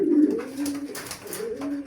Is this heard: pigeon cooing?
yes